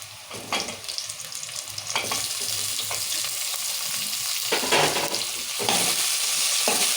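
Tomatoes sizzle in a pan for chicken curry, a close, continuous frying hiss with repeated stirring scrapes that grows slightly louder toward the end.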